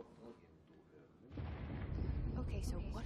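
An explosion in the video game Control, a sudden low booming blast that swells into a loud, rumbling roar and keeps going, following quieter game sounds and a voice.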